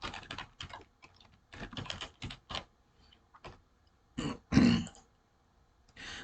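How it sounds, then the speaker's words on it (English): Bursts of computer keyboard typing come in quick clusters separated by short pauses, close and fairly quiet, with a few louder thumps and a soft throat-clearing sound partway through. "let me type that up real quick"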